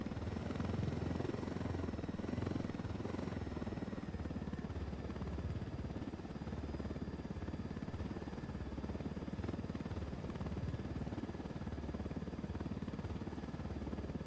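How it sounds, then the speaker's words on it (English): A helicopter in Ghost Recon Wildlands drones steadily with a low, continuous rotor thrum and a faint engine whine, holding constant at moderate distance with no talking. "Oh yeah, helicopter."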